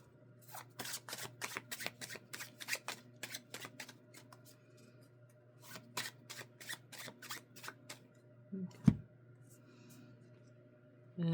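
Tarot cards being shuffled in a quiet room, a rapid run of crisp riffling flutters and slaps in bursts, followed by a sharper knock near the end.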